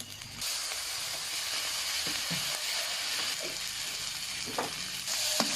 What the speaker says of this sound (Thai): เป็นการผัดแห้งๆนะครับ จากผัดจนแห้งได้ที่แล้วก็ใส่ใบผักครับ